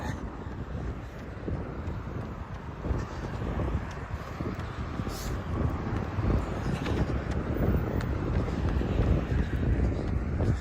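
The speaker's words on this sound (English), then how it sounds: "It's a little bit gusty, kind of swirly." Gusty wind buffets a runner's microphone outdoors during a running event in Bozeman, Montana, a loud continuous low rumble that swells and eases in irregular gusts.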